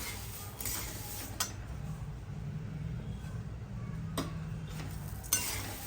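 Puffed rice (murmura) stirred and roasted with a little oil and turmeric in a pan for chiwda: a soft, steady rustling hiss with a few sharp clinks of the utensil against the pan, fairly quiet, with no talking.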